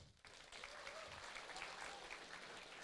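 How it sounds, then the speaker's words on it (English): Audience applause at a student robotics competition prize giving, a steady, fairly faint wash of clapping lasting a few seconds. "I'd like to give a final round of applause to Andrew for helping me along with this."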